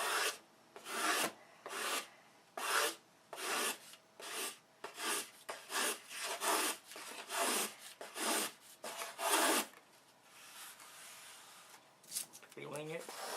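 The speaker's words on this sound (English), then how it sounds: "I choose to plane it because it's easy and fast." A hand plane shaves a wooden part flush with the fuselage sides of a control line model airplane, giving repeated rasping strokes in a steady rhythm, close and fairly loud, with pauses near the end.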